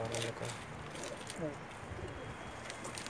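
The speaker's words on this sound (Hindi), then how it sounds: "माशाल्लाह मियां नज़ीर वाले कबूतर आए हैं अभी चंगा" Soft coos of Pakistani pigeons repeat in the foreground from a rooftop in Jeddah, Saudi Arabia, over a steady murmur of outdoor background noise.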